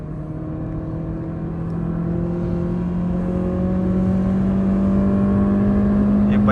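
A Honda Civic X accelerates on a solo run, its steady engine drone rising gradually in pitch and loudness as it pulls, heard alone with no voices.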